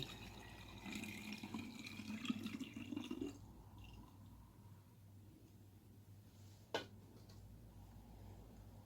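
Freshly squeezed mandarin juice with no added water or sugar is poured into a small flat bottle for a second kombucha ferment. It makes a brief trickling gush for about three seconds, then quiet, broken by one soft knock.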